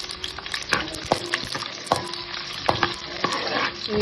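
Cumin and urad dal sizzle in hot oil in a pan, with a steady crackle broken by repeated clinking, scraping strokes of a spoon stirring close by.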